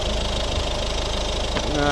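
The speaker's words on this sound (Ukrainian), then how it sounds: "Ось робота двигуна." A 1.6-litre diesel engine in a second-generation Mazda 5 idles steadily nearby, a constant low rumble with faint mechanical clatter throughout.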